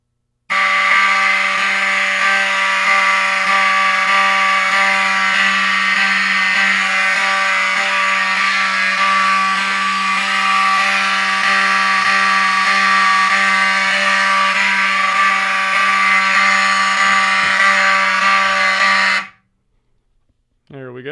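A fire alarm system with Wheelock 7002T horn-strobes sounds after a heat detector is triggered with a lighter, giving a loud, continuous buzzing tone that holds steady for about nineteen seconds and then cuts off abruptly.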